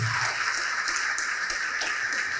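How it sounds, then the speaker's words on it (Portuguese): Church congregation applauding together during a worship service, a steady dense wash of clapping that fills the whole moment without a break. "Vamos aplaudir ao Senhor Jesus por cada vida que está chegando."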